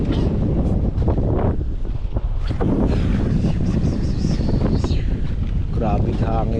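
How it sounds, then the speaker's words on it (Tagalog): Heavy wind at sea off Carabao Island buffets the microphone in a constant roar, with people talking over it throughout during fishing. "Grabe hangin sana"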